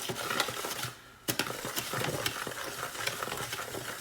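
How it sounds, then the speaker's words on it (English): Vinegar fizzes and foams as it dissolves crushed eggshells, a close, quiet bubbling crackle with scattered small pops and ticks and a brief lull near the one-second mark. "look at it foaming, right? So the vinegar is breaking that calcium down"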